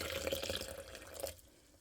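Water spilling and splashing while being mixed into Tractor Supply scratch grain for fermented chicken feed, a short wet pouring burst that cuts off after about a second, close and fairly quiet.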